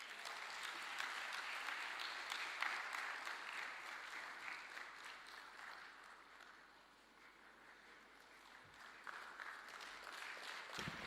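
Applause for President Thabo Mbeki at a lecture in Dar es Salaam, Tanzania, a faint, distant, continuous ripple of clapping that dips briefly in the middle before swelling again.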